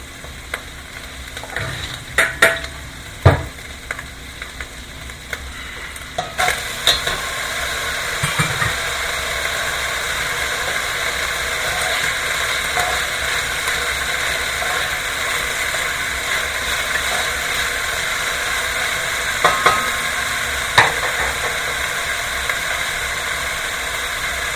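Potatoes fry in a hot pan and are stirred, a steady loud sizzle that swells after a few scattered clinks and scrapes, with occasional utensil knocks against the pan over the continuous hiss.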